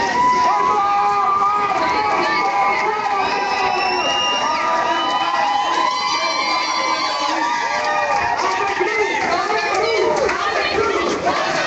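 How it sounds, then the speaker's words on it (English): Bystanders on a terrace cheering and shouting in support of a passing street march, a dense crowd of raised voices, some high-pitched, sustained and loud, with talk mixed in throughout. "we got some claps of support and cheers from some of the bystanders"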